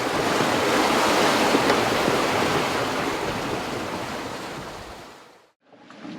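Steady roaring wind and rushing sea around a yacht sailing solo at about seven knots in 20 knots of breeze, loud and broadband throughout, easing off and cutting out briefly near the end before returning.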